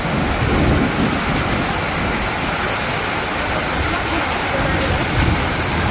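Steady rain falls hard in a village setting, a dense, continuous hiss close by, with thunder rumbling low underneath and a few faint ticks of drops on a surface.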